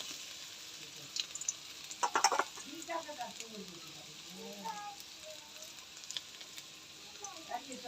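Potatoes fry in hot oil for a vegetarian aloo dum, giving a steady soft sizzle with occasional crackles and stirring clinks, close and fairly quiet, while a voice speaks over it.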